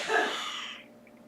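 A single sharp human sneeze, close and fairly loud, trailing off into a breathy fade.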